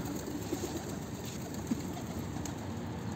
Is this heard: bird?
yes